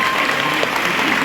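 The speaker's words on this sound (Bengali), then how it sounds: "নিলয়ের জন্য একটা জোরে হাততালি প্লিজ" A short burst of loud audience applause for a music director at a film event in a cinema hall, dense clapping throughout.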